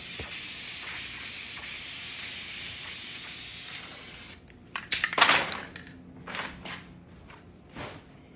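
An aerosol can sprays black paint onto the back of a white toilet in a continuous, close hiss for about four seconds, then stops, followed by faint clicks, shuffling and handling noises.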